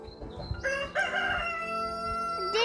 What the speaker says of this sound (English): they always do cock-a-doodle-doo